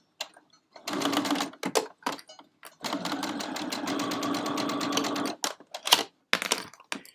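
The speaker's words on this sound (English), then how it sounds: "we're going to just stitch down that line. I'm going to do a lock stitch." A sewing machine lock-stitches a seam on a fabric stocking in quick bursts of fast rhythmic clatter. Short stops and clicks separate the runs, with one longer steady stretch in the middle.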